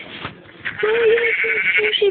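Minecraft sheep bleat several times in short wavering calls, loud and close, with a person talking over and between them.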